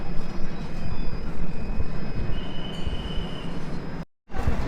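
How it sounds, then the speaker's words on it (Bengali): The Amravati Express rolls along the rails with a continuous loud rumble of wheels and carriage noise, a faint high squeal running through it and a brief dropout near the end. "আমাদের ট্রেন এখন পনেরো মিনিট লেটে টেডিপাল্লি গুডেমে চলে এসছে"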